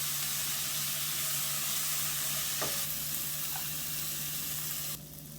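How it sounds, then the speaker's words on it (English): Onions cooking slowly in a pan for zucchini noodles give off a steady, moderate sizzle with a low hum beneath it and a faint clink partway through. The sizzle drops off somewhat near the end, and nobody speaks. "I like kind of like a slow cook because it brings out the sweetness of the onion and it won't burn."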